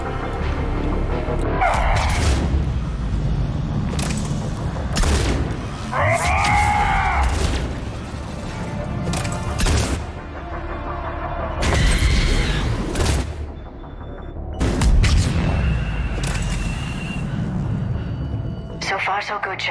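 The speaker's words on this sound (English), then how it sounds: "Many explosions." Explosions and gunfire bursts from Mass Effect 3 on Insanity difficulty, repeated loud broadband blasts at irregular intervals mixed with game dialogue and a voice talking over the action.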